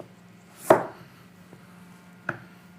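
A knife cuts food into long slices on a cutting board, giving one firm chop, a faint tap, then a second lighter chop against a quiet background hum.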